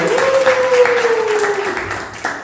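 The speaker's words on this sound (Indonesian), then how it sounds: "Wih, tepuk tangan dulu." Students in a school assembly at an Indonesian high school clap their hands together, a dense round of applause under a sustained tone, easing off slightly toward the end.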